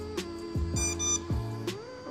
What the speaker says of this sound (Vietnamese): Và bây giờ nó đang kêu tít tít ấy.